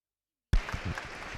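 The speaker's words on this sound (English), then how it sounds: "The crowd cheering as Dipika is back on court." A squash crowd at a finals match cheers and claps as a player returns to court, bursting in suddenly after silence and holding as a short, dense wash of applause.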